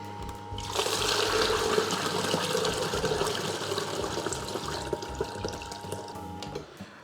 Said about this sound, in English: And then just hit the rinse, off it goes.